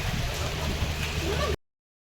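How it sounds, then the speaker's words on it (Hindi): The season's first rain falls as a steady soft patter and hiss close by, continuous until the sound cuts off abruptly. "सीज़न की पहली बारिश शुरू हो गई है"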